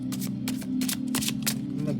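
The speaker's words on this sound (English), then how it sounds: "how do I even shuffle these?" Tarot and oracle cards, including Romance Angels and Love Oracle decks, being shuffled by hand: a run of quick papery riffles and slaps in uneven bursts over a low steady hum, close and fairly clear.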